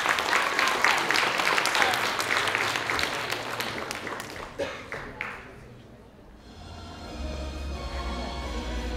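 Audience applause at a cosplay stage show during a game summit, dense and loud clapping for about six seconds that thins and fades before music begins near the end.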